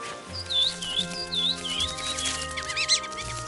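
Small cartoon birds chirp in quick repeated tweets over light music as mice and birds work on a dress together, close and bright, with a brief busy flurry near the end.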